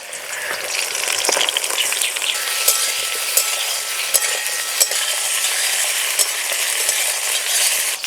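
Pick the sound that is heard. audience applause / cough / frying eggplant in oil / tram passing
frying eggplant in oil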